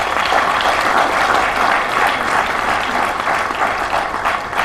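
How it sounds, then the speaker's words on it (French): Audience applause at a tribute event honouring a filmmaker, as a veteran cameraman is acknowledged. A dense, loud, sustained clapping fills the room evenly from start to finish. "Notre doyen Sékou Ouédraogo, que je vous demande d'applaudir."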